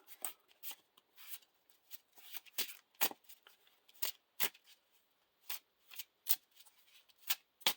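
A deck of Lord of the Rings LCG cards being shuffled by hand, quiet crisp riffles and snaps in an irregular run of short bursts, close up with no voices.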